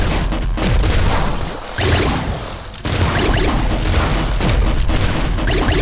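Super splinter gun firing in Nuclear Throne, dense rapid bursts of loud crackling shots layered over booming game effects, nearly continuous with brief pauses.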